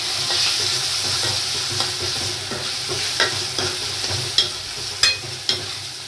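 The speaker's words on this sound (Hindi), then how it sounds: "अब इनको डाल के भूनेंगे।" Chopped tomatoes fry with spices in a pan for a masala rajma, giving a steady close sizzle with scattered spoon scrapes and several sharper clinks near the end.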